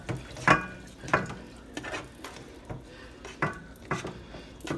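Cooked ground meat for spaghetti tipped into a metal strainer, with scattered clanks and scrapes of a utensil against pots and a soft trickle of grease, close and moderately loud, no talk.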